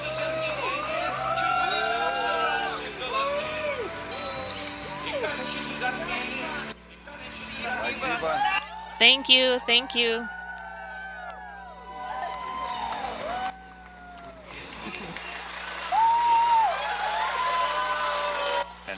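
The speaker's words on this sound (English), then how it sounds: "a large crowd of well-wishers 2 days after that first launch attempt, still on the scene, greeting the crew" Well-wishers at the Baikonur Cosmodrome cheer the Soyuz MS-25 crew as they board a bus, with whoops and applause rising and falling in waves, and voices talking close by over the crowd.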